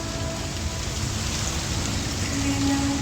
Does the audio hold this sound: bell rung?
no